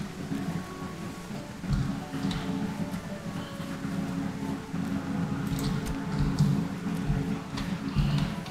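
Steady rain falls with low rumbling thunder in a video game set on Fern Island, a dense continuous wash of sound without speech.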